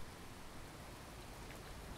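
Rain falls steadily in the video game Skyrim, a faint, even wash of patter with no distinct drops or voices standing out.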